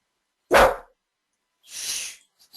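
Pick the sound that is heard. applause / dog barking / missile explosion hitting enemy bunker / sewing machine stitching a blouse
dog barking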